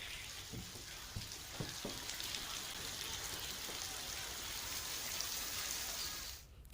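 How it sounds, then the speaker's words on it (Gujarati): Steady, dense monsoon rain hiss over Vanthali, Junagadh, Gujarat, fills the whole stretch with a few scattered drop taps, then it drops away abruptly near the end. "આસપાસના ગામો છે ત્યાં વરસાદ વરસી રહ્યો છે"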